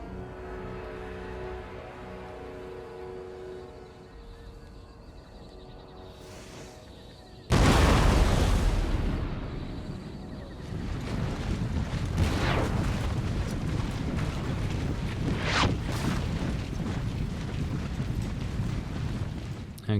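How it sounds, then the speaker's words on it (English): Cannon artillery fire in Empire Total War: after a quiet stretch comes a loud booming blast, then a dense continuous rumble of battle with repeated sharp reports layered over it. "we'll let the cannon whittle their numbers"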